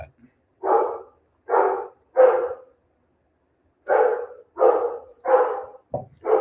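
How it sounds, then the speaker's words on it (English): A dog barks indoors in short bursts: three barks, a pause, then three more and a brief final yap, each clear and fairly close. "I don't know what my dog's barking about"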